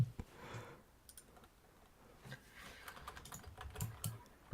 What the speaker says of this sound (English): I'm just typing in Firefox